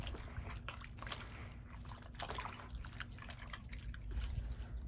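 Red fabric soaking and being agitated in cold water with dish soap gives soft dripping and sloshing liquid sounds, close and quiet, with no talking.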